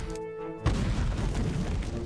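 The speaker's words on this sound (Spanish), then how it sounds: "voy a tener que atacarte con una escopeta" A loud shotgun blast from the video game My Time at Portia hits abruptly after a short quiet stretch, followed by a dense, rumbling boom that sustains to the end.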